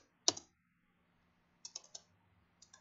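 A computer keyboard typing an AutoCAD text command: one sharp key press, then a short burst of three quick clicks and two lighter taps, close and crisp against near silence.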